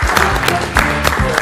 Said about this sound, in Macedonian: Ајде, аплауз за Дејан